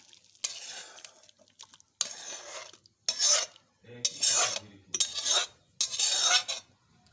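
A spoon scrapes cooked potato and pumpkin curry with bori and dried fish out of a pan into a bowl in six rasping strokes, with short pauses between them.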